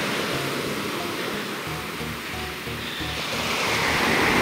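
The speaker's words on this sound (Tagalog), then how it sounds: "Pero grabe, lakas ng alon oh." Strong ocean waves crash and roar continuously, a loud, full wash of surf with wind rushing over the microphone, no voices.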